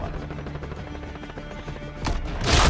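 Shotgun and other gunfire in Modern Warfare Season 2 on the Rust map: a dense, continuous clatter of game weapon fire, ending in two louder, close blasts.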